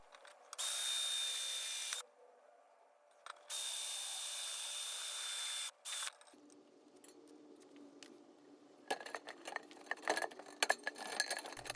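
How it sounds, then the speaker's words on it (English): A drill bores apart the metal plates of a roof turbine vent in two loud, steady whining bursts separated by a pause, followed by quieter rattling and clinking of the loose parts. "A little bit more drilling was needed to get the two plates separated."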